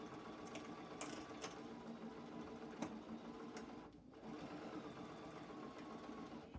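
A sewing machine stitching a denim and flannel quilt, a fast steady mechanical whir with a few sharp clicks, close and alone with no talk.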